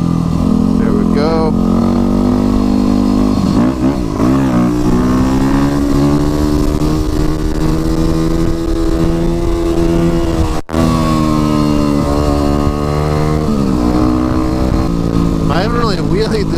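A Yamaha WR250R supermoto motorcycle rides a scenic road and pulls wheelies, its engine droning loud and steady with rising and falling revs throughout, with a person speaking over the riding.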